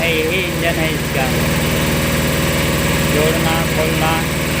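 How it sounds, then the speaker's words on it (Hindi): A vehicle engine idles at a steady, even drone, near and continuous, while someone talks over it. "लगता है यही इंजन है इसका"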